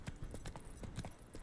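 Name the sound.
horse hooves galloping in video game The Witcher 3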